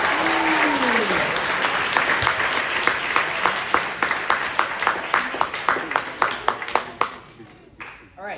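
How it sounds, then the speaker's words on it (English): An audience at a contest presentation event bursts into applause, dense clapping that thins into scattered individual claps before fading. "So please give them a round of applause."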